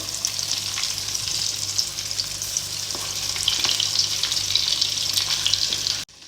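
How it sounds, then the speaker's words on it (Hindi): Chicken peri peri bites fry in hot oil over a high flame, a steady bright crackle and sizzle running unbroken for about six seconds, close and fairly loud with a faint low hum beneath and no voices. "अब हम ऑयल गरम करते हैं और इनको फ्राई करते हैं।"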